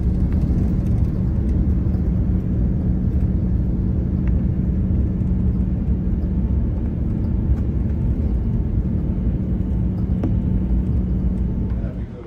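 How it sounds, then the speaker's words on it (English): Inside the cabin of a British Airways Airbus A380 taking off in fog, a steady, loud engine roar and rumble holds throughout, fading slightly at the very end, with no talk. "Taking off in foggy weather inside a BA"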